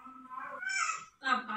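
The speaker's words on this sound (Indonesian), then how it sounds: "Kucing." A cat meows in a few drawn-out, wavering cries close by, with a short pause before a final call.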